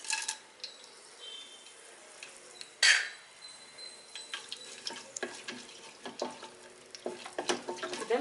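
Bay leaf, cinnamon, cloves and cardamom fry lightly in a pan for mushroom biryani, giving a soft sizzle broken by scattered clinks of a spoon against the pan and one louder scrape.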